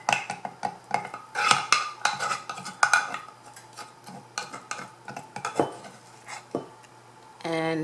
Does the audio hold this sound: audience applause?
no